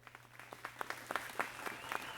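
Scattered applause from a bar crowd in the video game Snoot Game, after a band's performance ends, builds from a few separate claps into fuller clapping, fairly quiet and distant.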